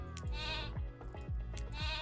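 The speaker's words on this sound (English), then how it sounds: "So let's see if I can actually spawn the sheep." Sheep in the video game Islands bleat right after being spawned, a quick run of about four loud, nasal bleats in close succession with no talk.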